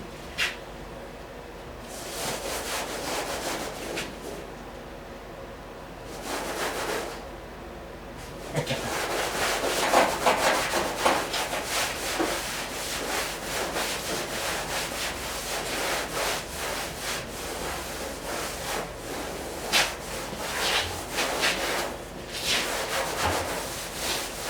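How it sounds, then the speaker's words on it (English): Hand sanding with a piece of sandpaper during restoration of a 1959 VW single cab pickup: repeated rasping strokes come in bursts with short pauses, close and fairly loud, with brief voices occasionally between strokes. "Piece of sandpaper"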